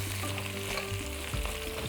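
Meat frying in a pot for bigos, a steady sizzle with stirring clatter and low bubbling, close and continuous with no talk.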